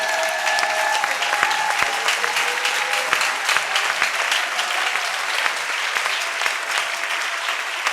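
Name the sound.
congregation applauding and acclaiming Jesus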